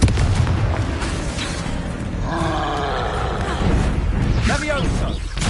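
Booming blast of a Confringo fire spell in Hogwarts Legacy, a loud roaring burst set amid heavy game noise with a voice shouting spell names over it.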